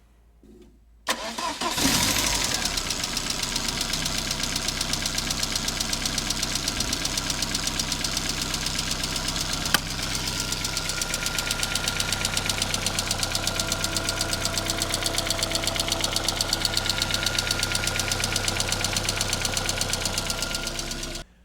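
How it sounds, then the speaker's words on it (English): A Ford Fiesta Mk1 Zetec engine starts and settles into a steady idle with a fast, rhythmic mechanical valve ticking running throughout, no voices. "it's been making that horrible, horrible ticking noise ever since I really bought it"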